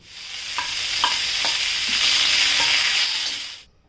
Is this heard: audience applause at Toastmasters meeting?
no